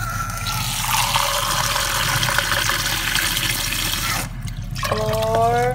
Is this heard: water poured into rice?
yes